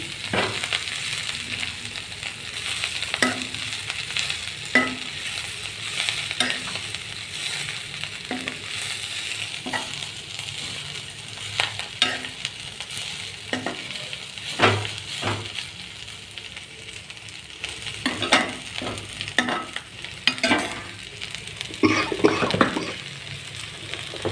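Amaranth leaves stir-fried in a pan, a steady sizzle broken by repeated scraping stirs at an uneven rhythm, close and moderately loud, with no voices.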